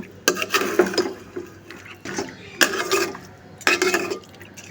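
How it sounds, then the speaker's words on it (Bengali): Goat heads are stirred with fried spice masala in a pan, a utensil scraping and clattering against the metal in three rhythmic bursts with short pauses between, close and moderately loud. "এখন ভালোভাবে মশলার সাথে মিশিয়ে নেব"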